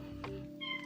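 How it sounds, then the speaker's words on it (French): A pet cat named Chester meows twice in quick succession, close and moderately loud, with a steady low household hum underneath. "Excusez-moi pour mon chat."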